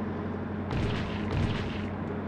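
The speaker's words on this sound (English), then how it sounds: "let me take out my pistol" A pistol fires in a video game. Two muffled, broadband shot bursts about half a second apart rise over a steady, droning game background.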